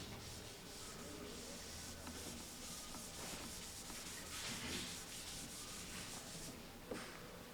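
Writing is rubbed off a classroom board in a continuous scratchy, brushing scrub of repeated strokes, faint and close, with no talk.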